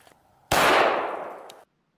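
A single .45 ACP full metal jacket round strikes a tungsten block at a shooting range: one sharp, loud report at close range with a bright metallic crack that rings and fades over about a second, then silence.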